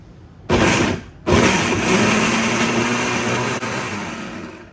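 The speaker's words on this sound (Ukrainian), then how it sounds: "І збиваю в блендері." A blender blending vegetables roars on after a brief start-and-stop, then runs loud and steady, its motor grinding continuously.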